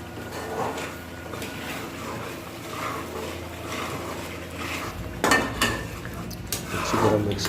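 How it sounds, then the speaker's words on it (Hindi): Fish curry stirred in a pan with lemon-juice-soured gravy, a spoon clinking and scraping against metal in irregular strokes, growing louder and busier toward the end, with a faint voice in the background. "अच्छी तरह मिक्स कर लेंगे इसको और पकाएंगे थोड़ी देर के लिए।"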